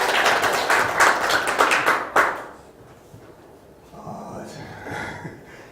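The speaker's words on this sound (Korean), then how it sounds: "박수로 맞이해 주세요" A small audience at a presentation event breaks into brief, close applause that lasts about two seconds and stops abruptly, leaving quiet room sound and faint murmurs.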